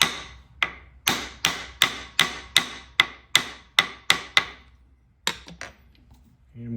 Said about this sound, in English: I also like to tap it a little bit just to make sure that we're good and tight in the jaws